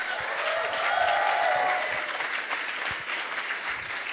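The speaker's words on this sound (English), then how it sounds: "A big applause for Vito Mengers." An audience at a science slam applauds a speaker, a sustained wash of many hands clapping at a steady level, with a few cheers rising above it.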